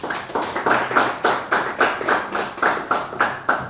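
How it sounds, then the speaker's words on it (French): An audience in a television studio show applauds in steady, rhythmic unison, the claps falling at a regular brisk beat, fairly loud and even, with no talk over them. "Ça s'applaudit."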